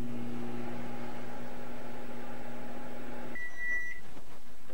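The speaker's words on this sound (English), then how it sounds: "into the microwave for 20 minutes" A 1993 Microcrisp-style microwave oven runs with a steady low mechanical hum for about three seconds, then stops with a short electronic beep; no one speaks.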